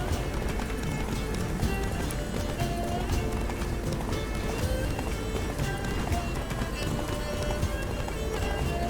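Hooves pound in a fast, steady gallop amid continuous background sound from The Witcher 3: Blood and Wine, loud and close throughout.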